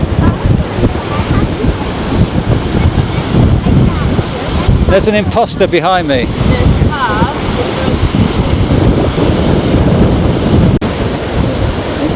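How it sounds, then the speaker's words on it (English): Strong wind buffets the microphone on an empty, very windy beach in Queensland, with surf rolling constantly underneath and someone briefly speaking over the loud, steady roar. "Pretty empty beach, very windy beach."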